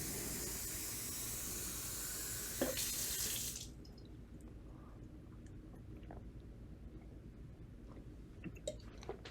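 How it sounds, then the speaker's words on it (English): Water runs from a tap into a glass for about three and a half seconds with a steady rushing hiss, then stops, leaving faint clinks and small handling noises close by. "Hang on, let me just get some water."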